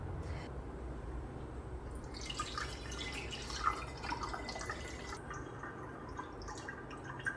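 Homemade passion fruit vinegar being bottled, liquid dripping and trickling steadily at close range with a low background hum and a few brighter splashy drips, no talking.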